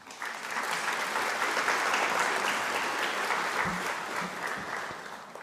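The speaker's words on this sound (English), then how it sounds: "Another round of applause for her" Sustained applause from an audience at an International Day of Reflection event commemorating the 1994 Rwanda genocide, a steady dense clapping that holds for several seconds before easing slightly at the end.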